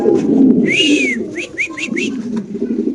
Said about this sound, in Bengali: আমরা ইনশাল্লাহ আরেক জোড়া কবুতর দেখাচ্ছি আপনাদের